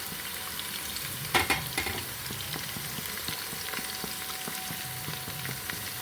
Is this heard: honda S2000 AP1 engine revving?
no